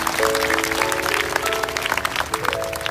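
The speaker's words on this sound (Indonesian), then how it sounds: "kasih tepuk tangan untuk Tuhan sekali lagi" A church congregation claps together at a Pentecost service in Kuching, Sarawak, a dense sustained round of applause lasting throughout, with sustained tones from music underneath.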